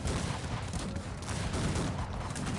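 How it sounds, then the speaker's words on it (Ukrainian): Cannon fire in the video game Cossacks 3: dense, continuous bursts of booming gunfire rumble without pause, a chaotic barrage of explosive shots layered together at a fairly loud level. "Гармати не перестають працювати."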